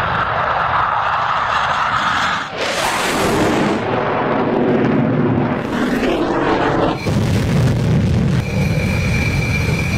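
Rafale fighter jets fire missiles one after another at night: loud roaring whooshes and rumbling blasts swell and fade in succession, filling the sound with heavy noise.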